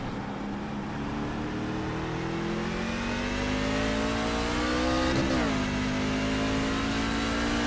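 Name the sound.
race car engine during a race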